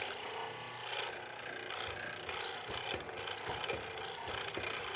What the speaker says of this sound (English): the chisel keeps going down, back and forth